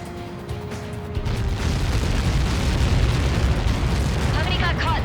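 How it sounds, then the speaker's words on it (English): Missile impact explosion in the video game Ace Combat 7, a deep rolling blast that swells over a couple of seconds into a sustained heavy rumble, with a faint voice at the end. "How many got caught in that explosion?"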